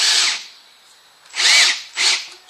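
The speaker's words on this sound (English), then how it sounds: "drill a hole" A power drill drilling a hole in wood whines in three bursts, one short pause after the first and a shorter one before the last, close and loud.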